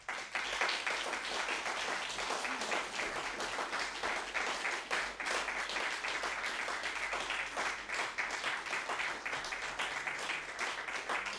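Distant, fairly quiet applause from a conference audience adopting the 2019 Ljubljana Declaration on Buildings and Infrastructure Resilience: a long, even patter of many hands clapping, sustained for over ten seconds.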